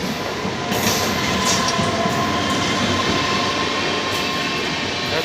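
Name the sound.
Chennai Mysore Intercity train arriving at platform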